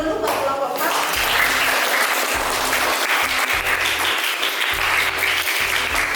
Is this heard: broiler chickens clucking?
no